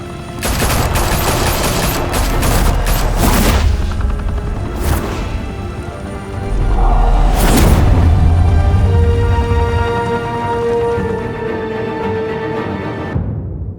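Gunfire erupts in a Batman video game, with dense bursts of rapid automatic shots and sharp cracks, loud and close, easing into scattered shots and a fading tail of quieter tones and rumble.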